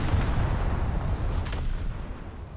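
Heavy naval guns booming and shells striking ships in a War Thunder naval battle, a dense continuous rumble of low blasts with sharper bursts mixed in, loud and sustained with no talk.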